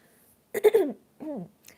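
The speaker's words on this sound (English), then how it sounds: "I'm trying to clear my throat" A person clears their throat twice up close, a rough bursting rasp followed by a shorter, softer one, with quiet in between.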